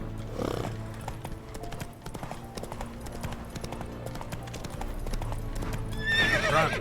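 In Witcher 3, Geralt's horse Roach gallops with rapid, steady clip-clop hoofbeats, close and continuous, a whinny near the start and a brief high squeal near the end.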